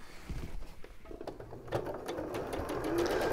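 A sewing machine stitches a patchwork block with a soft, rapid mechanical patter. The sound is close but quiet and slowly grows a little busier toward the end.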